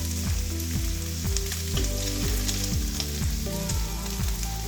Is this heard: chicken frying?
yes